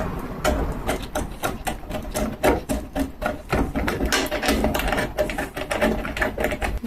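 Ratchet tool driving an M5 bolt into a threaded hole on a Suzuki Samurai mirror mount, a close, steady run of rapid clicking strokes with no talk over it.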